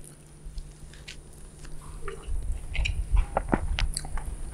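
Someone eating ghee rice, with soft close chewing and moist mouth sounds that grow louder toward the end, heard over a faint steady background hum and no talk.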